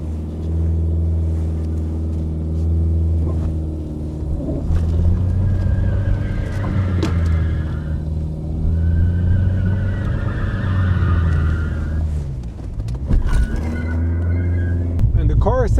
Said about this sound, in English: Reverse donuts for science.